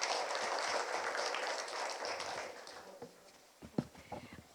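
Audience clapping in thanks at the close of a Korean Peninsula Future Forum symposium session, a dense, fairly faint applause that fades over about three seconds, followed by a few scattered footsteps and thumps.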